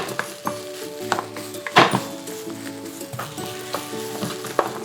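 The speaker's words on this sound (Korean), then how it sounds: "불이 조금 센 불로 볶아주시는 게 좋습니다" Kimchi fried rice stir-fries over high heat, giving a steady sizzle broken by the scrape and clatter of a utensil against the pan, with a tonal hum running underneath.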